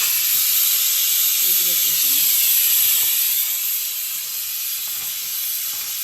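Chicken pieces and ginger fry in a pan, producing a loud, continuous steamy sizzle that holds steady and eases slightly toward the end.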